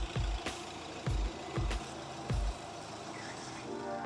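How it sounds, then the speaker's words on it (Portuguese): A Motor 7 delivery van pulls up, its engine rumbling low as air-brake hisses and sharp thumps recur in a steady pattern, fairly close and loud, with no talking. "vem ela, vem a carrinha da Motor 7"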